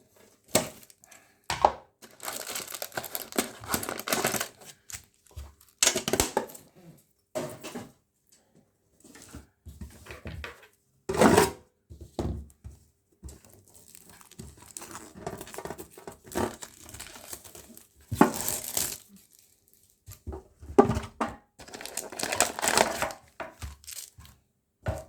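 Yu-Gi-Oh tin box card packs from 2022 being torn open, with bursts of crinkling foil wrappers and crackling plastic, close and fairly loud, coming in irregular bursts separated by short pauses.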